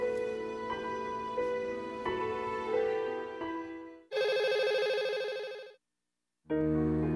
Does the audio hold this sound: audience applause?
no